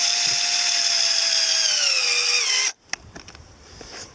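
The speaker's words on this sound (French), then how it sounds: "et je visse" A power drill drives a screw into an anti-slip fixing. The motor whines loud and close and steady, its pitch sinking as the screw tightens, then it cuts off suddenly, followed by a few faint clicks and handling noises.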